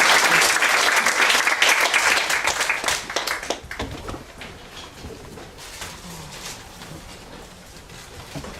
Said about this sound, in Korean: 5번을 위해서 박수로 환영해 주시면 감사하겠습니다.